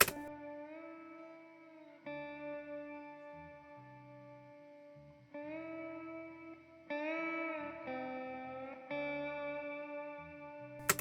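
Guitar chords ring out with a reverb effect added during song mixing, each strummed chord sustaining with long, smooth decay. The changes come every couple of seconds, clear and alone.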